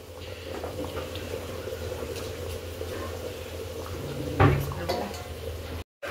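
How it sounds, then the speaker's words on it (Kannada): Mutton biryani bubbling steadily in a cooking pot, a continuous low simmering with a clatter of utensil against metal midway, close and moderately loud. "ಇವಾಗ ಚೆನ್ನಾಗಿ ಕುದೀತಾ ಇದೆ ಅಲ್ವಾ"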